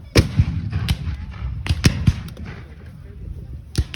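Single-shot rifles fired at a Civil War reenactment in Hartford City: several sharp, distant cracks scattered irregularly, a few close together, over outdoor crowd chatter.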